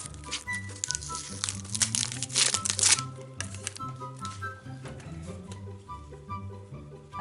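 Crinkling plastic wrapper of a Carrefour trading card booster pack being torn open, close and fairly loud in bursts, over steady background music with repeating low notes.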